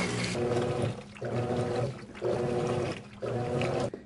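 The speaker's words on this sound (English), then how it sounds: "During the rinse portion of the cycle, you will hear similar sounds to the wash portion as the washer thoroughly rinses the load." A high-efficiency top-load washer rinsing its load: water sprays and splashes in four regular surges of roughly a second each, separated by brief lulls, steady and close.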